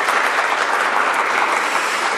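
Wedding guests applaud steadily at a hotel wedding reception in Yeosu, a dense, continuous wash of clapping from a full room with no break.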